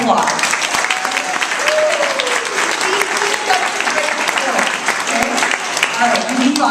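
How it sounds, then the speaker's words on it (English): A round of applause for a man named Chad, loud and continuous clapping from a group of schoolchildren and adults filling the room, with a few voices calling out underneath. "let's give Chad a round of applause"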